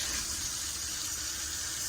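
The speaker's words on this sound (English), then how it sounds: "Just keep on filling water and kind of wash." Water running from a tap into a bowl of soaked masoor lentils during washing, a continuous even hiss and gush lasting the whole moment, fairly close and alone.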